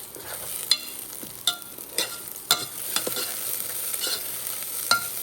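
Rice toasting in a pot on an induction cooktop, stirred with a utensil: a soft continuous sizzle punctuated by regular scraping strokes and clicks against the pot, close and moderately loud without talk.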